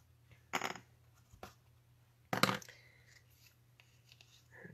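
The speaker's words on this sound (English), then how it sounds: "I'll grab my scissors again" Scissors cutting ribbon for a small handmade card, two or three sharp snips with quieter handling rustles between them, close and clear.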